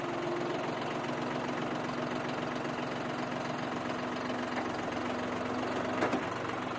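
A tractor engine idles steadily at a low, even rumble while setting down a bale from an Anderson RB 200 wrapper, with a brief clunk near the end.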